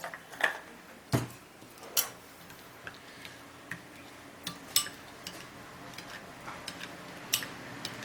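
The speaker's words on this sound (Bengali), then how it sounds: "সামান্য একটু জল দিয়ে মশলাটাকে একসাথে মিশিয়ে নেব।" A spoon stirs turmeric and chili spices with a little water in a small bowl for Bengali chicken dopiaza, tapping and clinking against the sides in a steady, light rhythm over quiet room noise.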